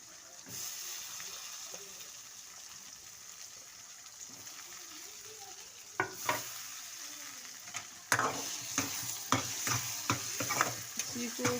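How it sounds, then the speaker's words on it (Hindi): Potato curry with softened tomatoes sizzles steadily in a pan while a spoon scrapes and stirs, with louder clattering strokes toward the end. "इसी को भूने 5 सेकंड के लिए।"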